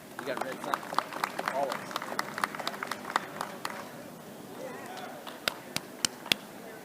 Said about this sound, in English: Big round of applause for our finalists.